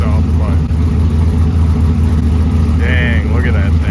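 A turbo 2005 GMC 4x4 race truck engine idles loudly outdoors, a heavy low rumble that holds steady throughout.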